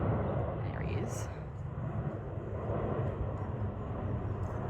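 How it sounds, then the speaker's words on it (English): A fixed-wing airplane on a test flight passes overhead above a garden, a steady distant engine drone holding throughout, with a person speaking softly over it. "Here comes that plane again."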